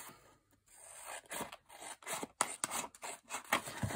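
Scissors cut through a thick card tag in quick successive rasping snips that come close and fairly crisp, in an irregular rhythm of short bursts.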